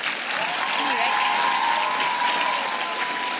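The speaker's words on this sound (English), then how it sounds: "Let's give them another round of applause." An audience applauds at a primary school winter concert, a sustained, even wash of clapping from a hall full of people, with a faint held tone running underneath.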